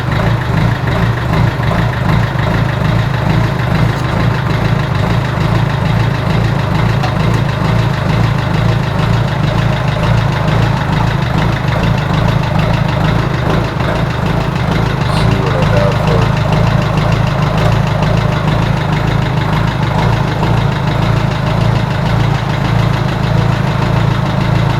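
A Kubota mower carrying a Woods deck warms up while creeping slowly across grass, its engine a steady, loud, close rumble with a slightly knocking idle that holds for the whole stretch.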